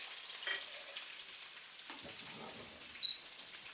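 A medium-size onion and tomato fry in a pan with a steady, moderate sizzling hiss and a faint scrape or two partway through.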